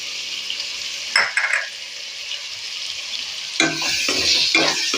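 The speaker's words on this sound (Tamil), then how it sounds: "இது எல்லாமே ஒன்றாவே சேர்த்து கலக்கலாம்" Mushroom biryani masala with yogurt being stirred in a pan, a low steady sizzle broken by a couple of short scraping stirs, close and clear with no talk.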